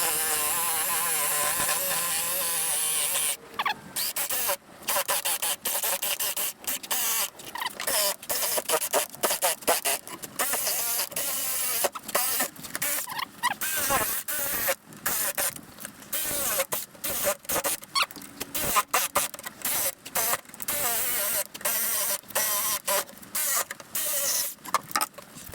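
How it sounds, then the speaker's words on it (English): A jigsaw cuts through a solid cherry wood cutting and serving board, its steady high buzzing broken by many short stops and restarts, sounding close and loud throughout. "when you don't have a bandsaw to cut this all out, you're going to have to use the jig"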